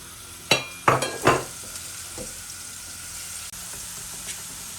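Finely ground small onion drops into hot desi ghee in a pan, giving a few sharp bursts of sizzle and stirring clatter up close, then a quieter steady fry with no voices.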